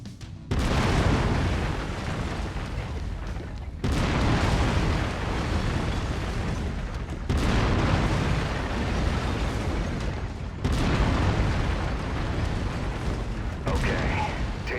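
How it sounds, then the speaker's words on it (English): A mech's autocannon in the video game MechWarrior 5: Mercenaries pounds out sustained, heavy, booming fire in four long, dense bursts separated by brief pauses, loud and close throughout. "I've mapped the autocannon to Weapon Group 1. You're free to fire whenever you're ready."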